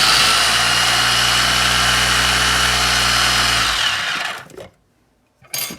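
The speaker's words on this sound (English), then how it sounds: "So I'm just gonna whiz that up for a few seconds." A food processor whizzes up a vegan fish cake mixture, its motor a loud, steady, close whir for about four seconds before it cuts off abruptly, leaving near silence and then a brief bump.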